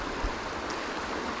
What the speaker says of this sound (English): You can tell there's a lot of water coming down